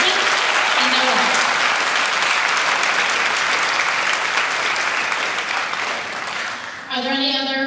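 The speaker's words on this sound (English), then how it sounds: "So he deserves a big round of applause for all of his investment and their work." An audience claps loudly and steadily at a high school spring choir concert, with the applause filling the room before it fades and a voice begins speaking.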